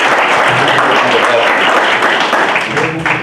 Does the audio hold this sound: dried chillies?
no